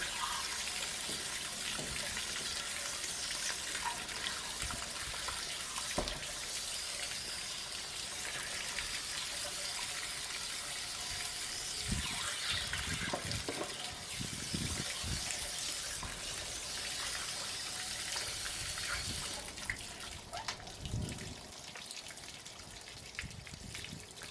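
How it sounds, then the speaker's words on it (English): Water flushes steadily out of an RV water heater drain, a continuous broadband splashing gush with occasional low thumps, close and alone throughout. "you want to create enough flow for all that junk and stuff to come out"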